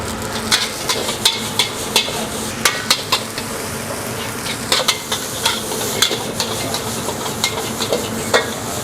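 Nasi goreng is stirred in a frying pan, giving a steady run of sharp scraping and clinking strokes over a soft sizzle of frying oil, close and fairly loud, with no talk.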